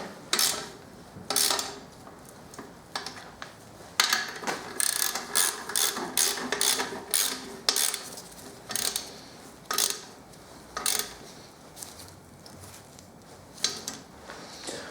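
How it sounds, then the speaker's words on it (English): A ratchet tightens a bolt during a single-turbo Supra build, giving short bursts of fast clicking separated by brief pauses, close and distinct, with no talk. "So quickly use the ratchet to tighten it down."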